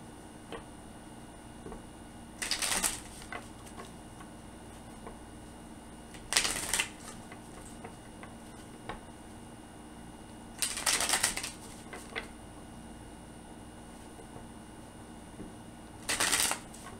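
A deck of oracle cards being shuffled in four separate quick riffling bursts, each lasting under a second or so, with quiet pauses between them in a calm indoor room.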